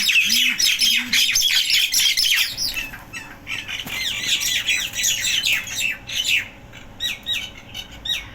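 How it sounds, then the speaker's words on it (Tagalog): A large flock of noisy birds squawks and chirps in a dense, continuous chorus, loud and close, with harsh overlapping calls rising and falling throughout and no talking. "Ingay ng ibon. Ang daming ibon, oh."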